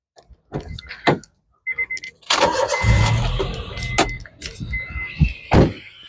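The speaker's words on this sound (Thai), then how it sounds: "แล้วก็เดี๋ยวผมสตาร์ทเครื่องให้ดู" A used Jazz GE car, shown at a used-car dealership, has its engine started: a few clicks and a door sound, then a loud cranking surge that settles into a running idle, close up with no talking.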